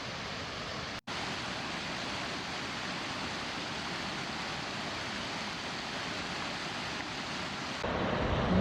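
A small waterfall, Crockett Falls on Shoal Creek in a Tennessee state park, gives off a steady, dense rushing roar that runs unbroken, apart from a momentary dropout near the start. No one speaks.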